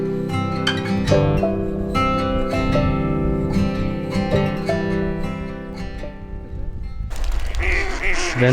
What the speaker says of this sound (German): Wir sind gerade hier unten am See und hier sind ganz viele Enten und ganz verschiedene Enten auch.